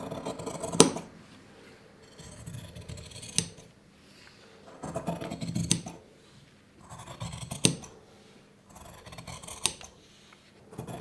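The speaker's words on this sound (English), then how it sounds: "Doing slightly smaller snips but still right to the tips, just to get around this corner." Fabric scissors cutting out an apron pattern, snipping in repeated bursts of crisp blade closes with soft rustling cloth between, close and clear, about five rounds of snips.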